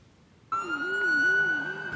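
A loud wailing siren of police cars, fire engines and ambulances responding to a school shooting in Georgia starts abruptly after a short silence, its pitch rising and falling in a steady cycle, with a high steady tone above it.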